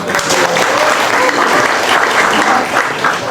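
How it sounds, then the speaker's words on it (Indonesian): Loud, sustained audience applause at a campus gathering of students, a dense steady clapping roar that fills the whole stretch without letup. "Boleh beri tepuk tangan."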